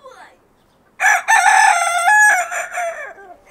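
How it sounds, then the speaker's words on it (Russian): A loud, close rooster crow, a long drawn-out call lasting about two seconds with a brief break partway through, in Crimea. "Какой-то бракованный петух"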